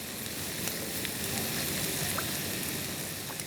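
Schezwan fried rice with sauce being stirred in a hot pan, a steady dense sizzle with faint scraping throughout, close and continuous with no voices.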